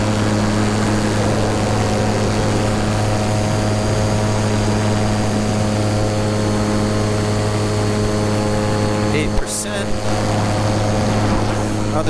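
Electric paramotor motor running at full power in flight, a loud, steady whining drone with sustained tonal hum and a brief disturbance near the end.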